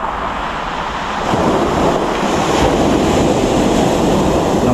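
Ocean surf rushes steadily at the shore at night, a loud continuous wash with wind buffeting the microphone.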